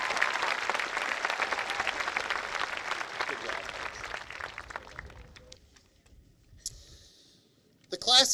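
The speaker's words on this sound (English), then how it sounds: "one more round of applause for their academic achievements and their inspirational messages" A high school graduation audience claps loudly for several seconds, the applause thinning and fading out, followed by a short voice and a microphone bump near the end.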